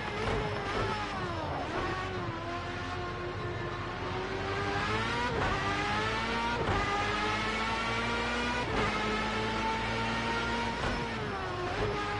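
A Formula A race car in Project Cars 2 revs hard and loud, its engine pitch climbing through gears and dropping sharply at each shift in a repeated rhythm of upshifts and downshifts.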